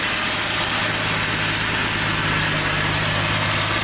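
A truck-sourced V6 engine swapped into a MerCruiser ski boat runs steadily at idle, a loud, constant rumble with a dense, even vibration and no talk.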